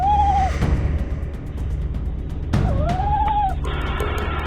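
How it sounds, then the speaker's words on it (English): A tawny owl calls at a barn owl: two shrill, rising-and-falling hoots, one brief at the start and a longer one midway, over rustling and scuffling noise nearby. "Luna withdraws, hooting at the barn owl"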